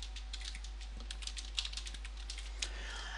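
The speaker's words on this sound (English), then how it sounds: "Then simply type in number one for your question one and type in your question." Typing on a computer keyboard, close and steady, with a quick patter of light key clicks over a low constant hum.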